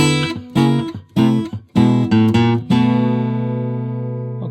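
Acoustic guitar thumbpicking a 12-bar blues turnaround, a quick run of plucked notes and bass strikes that ends on a ringing chord left to sustain and fade, played solo.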